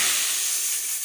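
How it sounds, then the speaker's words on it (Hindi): Hot tadka poured into karhi, a loud, bright continuous sizzle and hiss close by, steady for the whole moment with no voices. "और ये देखें तड़का हमारा तैयार हो गया है। अब हम इसको कढ़ी में डाल देते हैं।"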